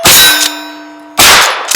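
9mm bullets from a lever action rifle striking a steel target at close range, two loud ringing clangs with a lingering metallic tone, the second followed by a quick lighter ping, with no talking.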